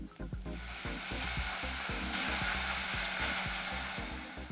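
Red wine is poured into softened onions sizzling in a saucepan, giving a loud, close, steady frying hiss with repeated clicks and pops throughout and no speech.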